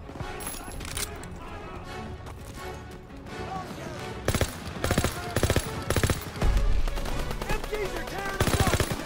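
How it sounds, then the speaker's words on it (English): Machine gun fire in the video game Call of Duty WW2, dense rapid bursts of automatic gunfire with louder clusters in the second half, with voices talking underneath. "MGs are tearing us up!"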